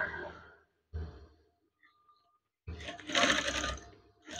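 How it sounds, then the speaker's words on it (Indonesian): A sewing machine stitching a folded curtain hem, running in short bursts separated by pauses, with one louder, longer run near the end. "Kemudian jahit saja. Seperti ini cara menjahitnya."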